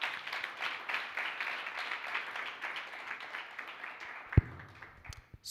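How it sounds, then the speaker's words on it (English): Applause from an audience at a memoir event, a steady, moderately faint patter of many hands that rolls on for several seconds before thinning out, with a single knock near the end. "help me once more give a resounding round of applause to Ms."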